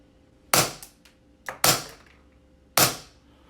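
SIG Sauer P320 M18 green gas blowback airsoft pistol firing into a chronograph: three sharp, loud cracks spaced about a second apart, each with quick mechanical clacks of the slide, in an otherwise quiet room.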